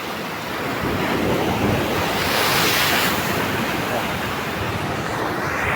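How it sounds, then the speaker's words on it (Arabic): Sea waves break in a steady roar along a rocky fishing shore, with heavy wind buffeting the microphone throughout and no clear speech. "شوف البحر، شوف ها هو ينفخ"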